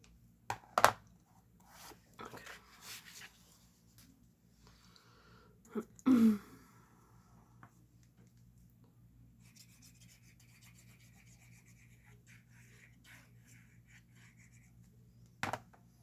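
Paper is cut along the sides of a Halloween card, with a few short crisp snips and rubbing rustles separated by long quiet pauses, close and faint.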